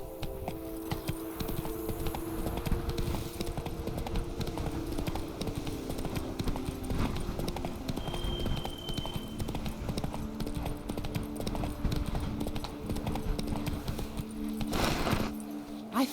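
Horse hooves clip-clop at a steady walking rhythm in The Witcher 3, close and continuous throughout, with game ambience and faint voices underneath.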